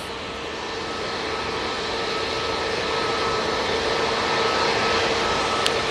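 A steady, broad jet roar from an EasyJet airliner departing Manchester Airport builds slightly and holds, heard from a distance as a continuous rushing drone with a faint whine.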